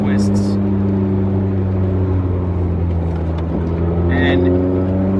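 A 1989 BMW M3 on twisting, undulating roads north of Manhattan, its engine giving a loud, steady drone heard from inside the car, with a few faint higher rattles.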